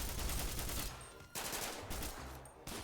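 Rapid bursts of gunfire ring out in GTA 5, loud and close, with short gaps between volleys that break the firing into three clusters.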